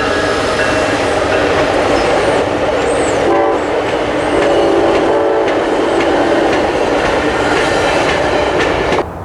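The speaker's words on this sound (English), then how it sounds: "I could hear Amtrak coming, so I thought I'd give you a view of the Amtrak train to Vancouver." An Amtrak passenger train bound for Vancouver rolls past nearby with a loud continuous rumble and clatter of wheels, its horn sounding in a couple of tonal blasts midway through.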